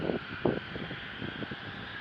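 Private jet taking off at Scottsdale Executive Airport, a steady distant roar with wind-like rush and a few soft bumps, fairly faint throughout.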